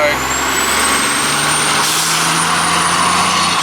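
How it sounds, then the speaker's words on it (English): A big Hodges Transport truck rolls past at a horse training track, its steady loud engine rumble and tyre roar filling the whole stretch, with a faint speaking voice underneath. "Hodges Transport, just let the big truck go past"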